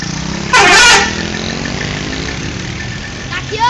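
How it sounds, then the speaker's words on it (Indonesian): A bus in Semarang sounds a telolet horn, one loud musical blast close by over a rumbling idling engine, with a short second toot at the end. "Nanti klakson om yang panjang."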